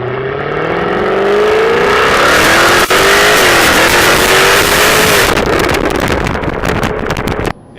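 The engine and exhaust of a 2015 Jaguar F-Type coupe roar loudly from inside the cabin as it accelerates hard, rising in pitch through a gear change with wind rush, before the throttle lifts near the end.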